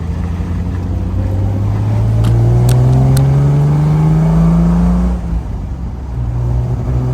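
A 1968 Triumph TR250 engine on the road, droning as the revs climb steadily, then dropping sharply on a smooth downshift before settling into a lower hum, close and loud with no talking.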